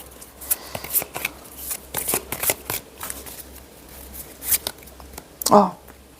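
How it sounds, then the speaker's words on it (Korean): Tarot cards drawn and handled from a deck: quick papery slides and flicks with a louder card snap near the end, under someone speaking close by. "그리고 카드 하나 더 뽑겠습니다"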